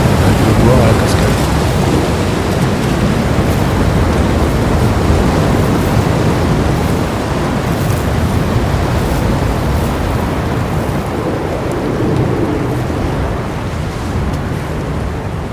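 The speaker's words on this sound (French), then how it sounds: "On peut boire à la cascade." A waterfall in the video game Cairn pours in a steady, dense roar of rushing water that holds an even level throughout, with no pause or break.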